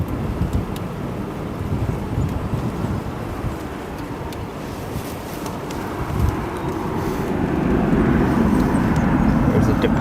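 A SkyWest regional jet in house livery at O'Hare International Airport, its engine roar steady and broad, then swelling louder toward the end, with a voice talking over it.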